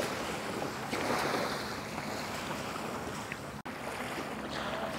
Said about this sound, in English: Listen to the calmness of the water.